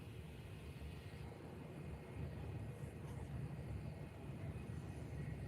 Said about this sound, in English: Jet2 A330 pushing back